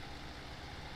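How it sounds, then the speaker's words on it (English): A John Deere tractor engine ticking over near idle in the Farming Simulator 17 video game, a steady low rumbling drone with broadband noise, continuous and even without any talk. "the John Deere can just tick over almost to idle"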